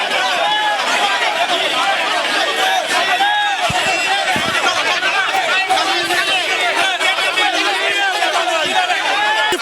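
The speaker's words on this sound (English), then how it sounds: "The crowd chanted 3 years, 3 years as the bus conveying them leaves the court premises" A crowd chants outside a court as a bus pulls away, a loud, dense mass of voices with rhythmic shouting and babble sustained throughout.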